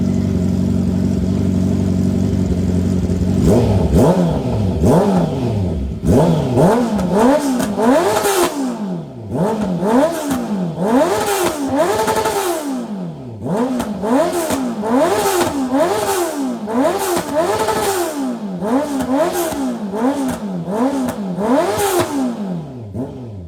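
Honda CB650R, Triumph Trident 660 and Kawasaki motorcycle engines revved hard and close, repeated rising and falling bursts of revving with brief idle dips in between.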